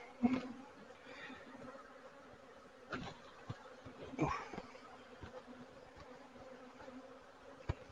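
Honeybees hum softly around an open beehive being inspected, a faint, continuous buzz broken by scattered clicks and knocks from frames and hive parts.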